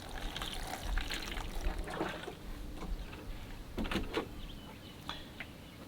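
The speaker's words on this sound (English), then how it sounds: "And just give them some water and then their journey begins." Water trickles and pours onto freshly sown seeds and soil, a soft steady splashing with a few brief louder spatters, close by and with no talking.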